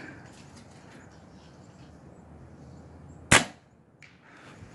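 One sharp crack from an RTI Priest .25 airgun rings out close by over a quiet outdoor background, followed by a short fading tail.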